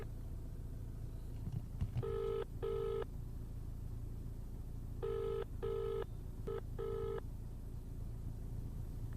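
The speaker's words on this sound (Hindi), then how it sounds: "हमने एफकॉन्स के कॉर्पोरेट कम्युनिकेशन को फोन किया" An unanswered phone call rings through a handset in repeated paired electronic ring bursts, faint and buzzy over a low background hum, with no talk.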